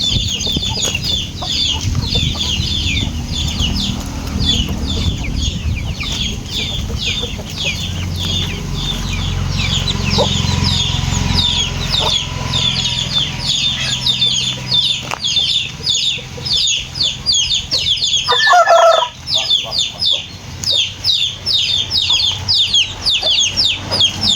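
Roosters and hens in a flock, continuous overlapping clucking and chattering calls, close and loud, with a brief crow near the end.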